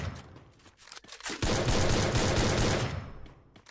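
A burst of loud automatic gunfire in a shooting game, preceded by a few scattered shots and tapering off at the end, no voices.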